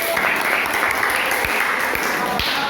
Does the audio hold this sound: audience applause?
yes